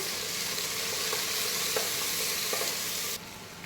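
Mint and coriander leaves frying in a pan for mandi biryani, a loud continuous close sizzle with a few light stirring clicks, cutting off abruptly near the end, no voices.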